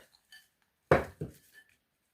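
Cookie dough for a curd and walnut bake being mixed in a bowl, with a couple of close thuds and scrapes of the spoon against the bowl, set apart by quiet gaps.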